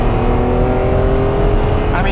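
A Ferrari Testarossa's engine hums steadily and loudly from inside the car while driving across the desert, a sustained drone with road noise and a slight rise in pitch near the end.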